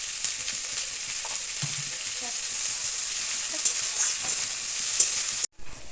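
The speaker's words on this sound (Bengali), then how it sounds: "রসুনটা ভাজা হয়ে গেল, তার মধ্যে দেবো পেঁয়াজ" Onions hiss and sizzle in hot oil alongside fried garlic for a Bengali fish curry, a steady close frying crackle with a few stirring scrapes, cutting off abruptly near the end.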